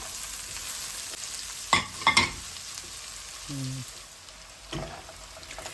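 Spring onions and green chilies hiss and sizzle in a pan of garlic butter chicken, a steady frying crackle broken by a few sharp clatters of utensils and a brief low hum.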